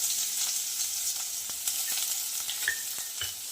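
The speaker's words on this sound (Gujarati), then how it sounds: "રાઈ જીરું આપણે ફૂટી જાય એટલે આપણે એમાં સમારેલા કાંદા નાખી દેવાના છે" Chopped onions sizzle in a hot tempering of mustard seeds and cumin for a capsicum paneer curry, a steady close-up frying hiss with a few stirring clinks and no voices.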